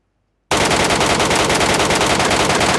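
Sustained automatic gunfire from an enemy in PUBG Mobile Metro Royale, a loud, dense, rapid burst that starts abruptly after a moment of silence and continues unbroken.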